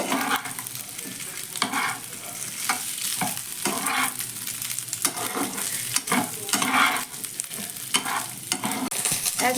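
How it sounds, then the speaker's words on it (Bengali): Cooled snack pieces fry in oil as they are turned and stirred. Continuous bubbling sizzle runs under frequent close scraping and clinking strokes of the spatula against the pan. "এক দেড় মিনিট মতো একটু নাড়াচাড়া করে ভেজে নেব"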